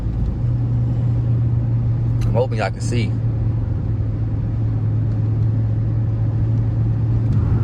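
A Hemi-powered Chrysler 300C moving through afternoon traffic, with a steady low engine and road rumble and a constant drone throughout, while someone talks briefly over it.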